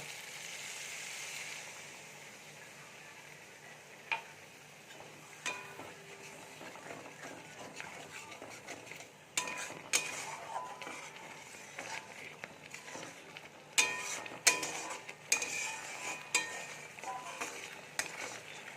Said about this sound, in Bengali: এবারে আমি একটু দুধ দিয়ে দেব।